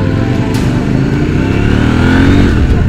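A light, brand-new motorcycle with an engine of over 90 horsepower roars loudly and continuously on an Italian test ride, its pitch climbing steadily as it accelerates.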